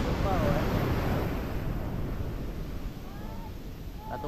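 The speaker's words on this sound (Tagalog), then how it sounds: "umaangat ang tubig dito sa sobrang lakas ng agos" A strong, rushing river current surges with powerful water flow in a loud, continuous broadband roar, with faint voices at moments.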